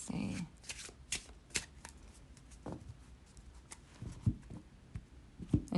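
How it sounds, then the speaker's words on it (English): Tarot cards are hand-shuffled the traditional way in soft, irregular riffling bursts close by, with a low voice murmuring faintly at times. "I do shuffle the original traditional tarot way"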